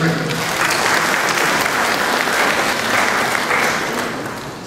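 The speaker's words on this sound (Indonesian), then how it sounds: "tepuk tangan dulu" A large audience applauds at a public gathering with the Governor of East Nusa Tenggara, Melki Laka Lena: dense, steady clapping that stays loud and continuous throughout and eases slightly at the end.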